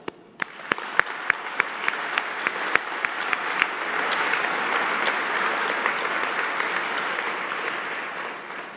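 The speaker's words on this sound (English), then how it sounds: "We applaud them." Audience applause at an annual meeting, opening with a few distinct rhythmic claps before swelling into a full, steady wash of clapping from a large room that continues evenly to the end.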